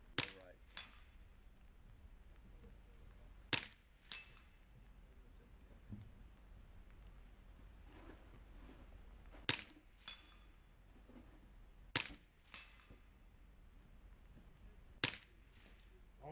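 Distant gunshots ringing off steel target plates, sharp isolated cracks every few seconds with metallic pings, spaced irregularly over quiet outdoor background and faint voices.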